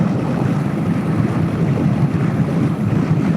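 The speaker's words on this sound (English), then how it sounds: "the Coffman's is not obnoxious at all. I love these Coffman exhausts. They're throaty" Kawasaki Eliminator 450 with a Cofman exhaust cruising at about 55 mph, a steady low throaty drone mixed with heavy wind rush, unbroken and close.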